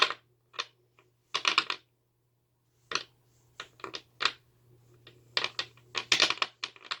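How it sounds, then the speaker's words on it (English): A deck of tarot cards is shuffled close by in quick, papery bursts of riffling and slapping, bunched into short irregular clusters with brief quiet gaps, with no talking. "I'm just going to keep shuffling until the universe is like,"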